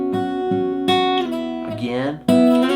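Electric or acoustic guitar playing a two-finger shape slid back along the neck while only one string sounds, giving sustained harmonic notes with gliding pitch changes and a fresh pluck near the end; no talking.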